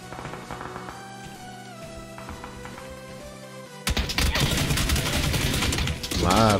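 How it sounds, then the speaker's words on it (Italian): Rapid gunfire in the video game PUBG bursts in suddenly after a quieter stretch, loud clattering shots layered over in-game sounds. "Quanto cazzo mi sparano?"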